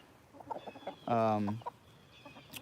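Mixed-breed backyard chickens, including Barred Rock and Silkie crosses, cluck nearby with one loud, drawn-out squawk standing out among softer scattered clucks.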